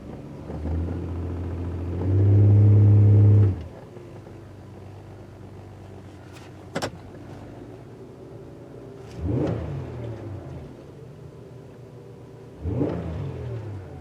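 A Buick Lucerne 3.9 engine with a cylinder 1 misfire idles with a low rumble, broken by a few short rev swells and a sharp click, heard close with no talk.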